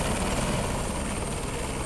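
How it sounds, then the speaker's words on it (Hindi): A rescue helicopter evacuates stranded travellers by air in Rudraprayag, Uttarakhand, after heavy rain. Its steady, loud, close rotor and engine roar fills the whole moment without a break, and no voices are heard. "तो हवाई मार्ग से इन्हें यहां से निकाला जा रहा है, हेलीकॉप्टर की मदद ली गई है।"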